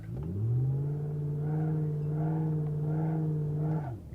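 Gavril H-25 pickup with a 4.5 liter V8 in BeamNG.drive, revving steadily in a burnout attempt; a loud, sustained engine drone held for about four seconds with slight pulsing, rising at the start and dropping off at the end.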